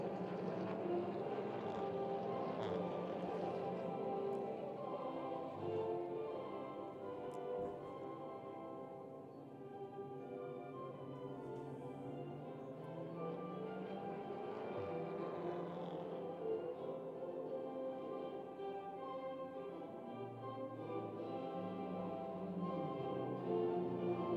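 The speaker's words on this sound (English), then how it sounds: "And now we hear the national anthem from Estonia." The Estonian national anthem plays at the podium ceremony after a SEAT Leon Eurocup race at the Nürburgring in Germany, a steady, full instrumental performance that carries without a break for about twenty-four seconds, with no talk over it.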